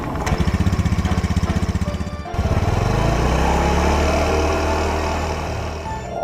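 A motorcycle engine runs close and loud, first with a fast pulsing putter, then settling into a smoother steady rumble after a brief rev change.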